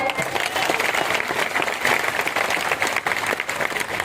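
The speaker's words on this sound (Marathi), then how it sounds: "आशीर्वाद द्यायचे आपण टाळ्या वाजून" A large crowd at a political rally breaks into dense, continuous applause, loud and sustained throughout without a break, with a faint murmur of voices beneath the clapping.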